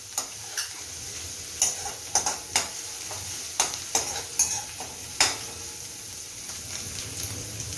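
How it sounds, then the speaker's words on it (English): Garlic and grated ginger fry in a pan, a soft steady sizzle broken by repeated sharp ticking taps of a utensil against the pan. "I'm going to roast, let it cook till the garlic turns brown."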